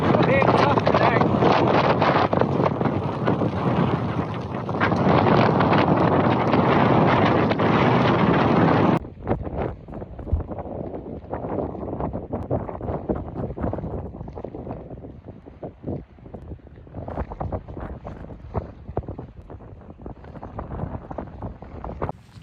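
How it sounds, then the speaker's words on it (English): Strong gusts batter the microphone on an exposed Scottish Highland summit in rain, a loud roaring buffet for the first nine seconds, then lighter, fluttering wind noise as the gusts ease. "The wind gusts are serious up here."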